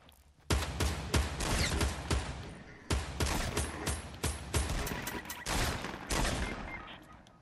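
Fortnite gunfire comes in loud bursts of rapid shots, close and sharp, in several volleys separated by short pauses.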